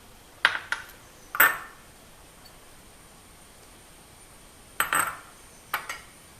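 Spices, pepper powder, turmeric and salt, being mixed in a bowl for a red-bellied piranha fry marinade: a few sharp metallic clinks of spoon against bowl in two separated bursts, close, with quiet gaps between.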